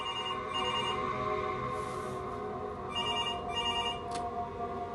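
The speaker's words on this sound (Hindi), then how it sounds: "रात तकरीबन 1:30 बजे उसका फोन बजता है।" A telephone rings late at night, a repeating electronic ringtone pattern heard faintly and steadily on its own with no voices.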